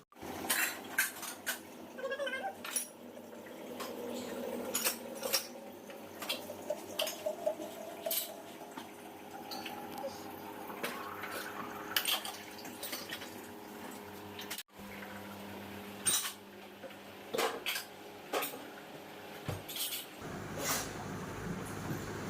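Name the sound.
washed dishes being placed into a kitchen rack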